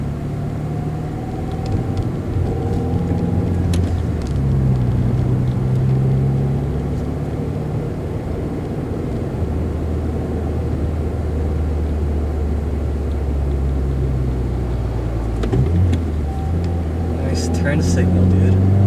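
A 2017 Subaru WRX with a Cobb Accessport Stage 1 tune drives along, its engine a loud, continuous low drone blended with road rumble inside the cabin, swelling slightly near the end.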